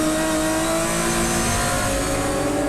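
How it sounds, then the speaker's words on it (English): BMW M4 race car engine revving hard on the Assen circuit during a Supercar Challenge round, a loud, continuous, throaty roar that holds steady with no voices over it. "They can't get the maximum out of the engine in the M4"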